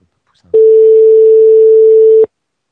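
A loud, steady telephone tone sounds close and alone for under two seconds, starting and stopping abruptly, during a prank phone call on a radio show.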